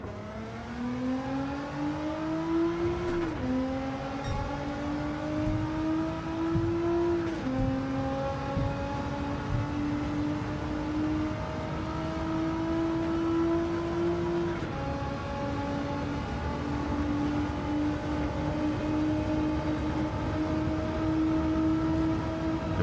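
A GT-R race car in Gran Turismo 7 at Tokyo, its engine climbing steadily through the gears with brief dips at each of several upshifts, a loud continuous whine running the whole stretch.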